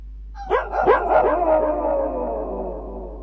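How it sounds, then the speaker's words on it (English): A dog's howl run through a long tape echo, rising in several wavering swoops that repeat and smear into a decaying, creepy tail lasting a few seconds, heard alone. "So that was quite a nice long tape echo, I think."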